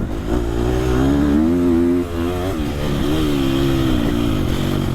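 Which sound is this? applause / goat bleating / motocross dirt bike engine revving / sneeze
motocross dirt bike engine revving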